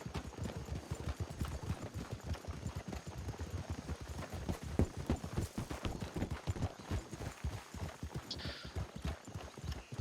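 Horse hooves clip-clop steadily on the ground in Red Dead Redemption 2, a rapid, continuous rhythm of close, moderately loud hoofbeats with a brief whinny near the end.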